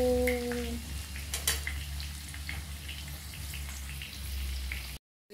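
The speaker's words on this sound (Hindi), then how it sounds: "डीप फ्राई हो गया मेरा आलू" Potatoes deep frying in a pan of hot oil, a continuous close hiss and crackle with a low hum beneath, a brief tonal sound at the start and a short cut near the end.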